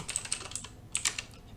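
Keys clatter on a computer keyboard as a short password is typed: a quick run of light clicks, a pause, then a few more taps, close and moderately quiet.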